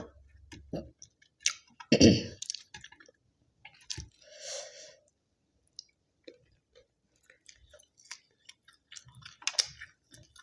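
Someone eating khanom jeen rice noodles in coconut curry with fresh vegetables and sausage, with close, wet chewing and slurping in short bursts, a few faint crunches and quiet pauses between bites.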